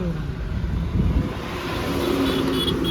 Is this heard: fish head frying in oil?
no